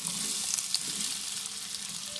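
Potatoes with garlic, pepper and salt frying in oil in a pot, a continuous close hiss and crackle with small bursts of stirring.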